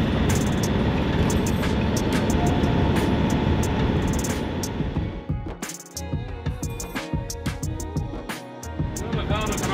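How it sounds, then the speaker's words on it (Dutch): A loud, low roar of a large cargo airplane passing close overhead above a road, fading into quieter rumbling traffic noise near the end. "Dat is een vrachtvliegtuig, ja."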